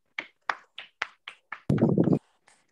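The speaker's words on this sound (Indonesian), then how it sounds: "Tepuk tangan kepada teman-teman yang menjawab." In a classroom lesson, six sharp, evenly spaced hand claps, then a short burst of several students clapping together, with one faint clap trailing after.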